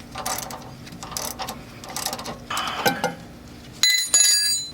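Wrench cranking down a sway bar end link bolt on a Land Cruiser 100, several close metallic ratcheting clicks and clinks in short bursts, ending in sharper ringing metal taps.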